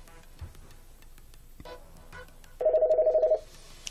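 An office desk phone on a small business telephone system rings with an incoming call, a clear rapid electronic warble in one burst of about a second that starts again at the end, after quiet room noise and a few soft clicks.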